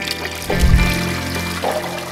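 Untreated household wastewater from kitchens and toilets in Gostivar pours steadily into the Vardar river, a continuous splashing rush with a heavier surge near the start.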